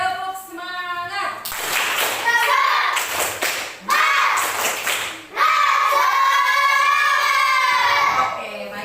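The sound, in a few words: children doing the 'tepuk semangat' clapping chant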